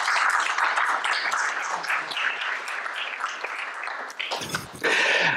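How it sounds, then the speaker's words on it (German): A small crowd gives a brief round of applause at an exhibition opening in Berlin, dense clapping close by that thins out before a final louder burst. "Kleiner Applaus."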